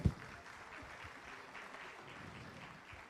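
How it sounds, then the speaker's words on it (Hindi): Steady applause from a crowd at a Congress party MGNREGA protest rally, fairly faint and distant, continuing evenly for a few seconds. "जोरदार तालियां बजाओ भाई।"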